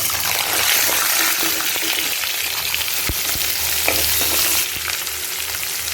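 Green chillies fry in hot oil for poha upma, giving a steady loud sizzle with crackles and stirring scrapes close by, the hiss easing slightly toward the end.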